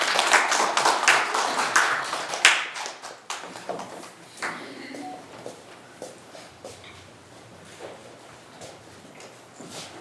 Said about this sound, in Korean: 박수를 맞아주시기 바랍니다